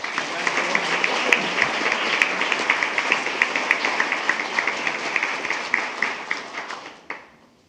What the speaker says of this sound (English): one more round of applause for all of our AVID scholars